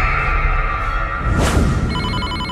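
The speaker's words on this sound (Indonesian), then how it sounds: "Tiba-tiba saja handphone aku berbunyi" A mobile phone rings in the Dakura School Simulator game, its bright repeating electronic ringtone tones sounding steadily and loudly throughout, with a short whooshing burst partway through and no talk.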